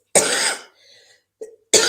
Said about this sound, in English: So let me cough a little bit